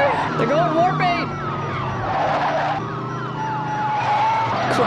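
Several police car sirens wail and overlap during a movie car chase, loud and continuous with engine roar and crashing noise mixed in.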